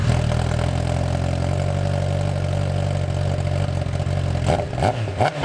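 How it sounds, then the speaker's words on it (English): A Honda CBR1000RR motorcycle engine idles steadily and loudly up close, a smooth continuous rumble that turns rougher and more uneven with some clattering in the last second. "All right, got the bike started up."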